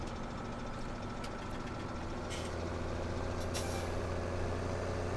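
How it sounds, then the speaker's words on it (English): Low, steady mechanical rumbling with a sustained hum, punctuated by a couple of brief hissing bursts, as a train shunts around a rail yard in the distance in the game Farming Simulator 17. "In the background there is a train shunting around in the train yard."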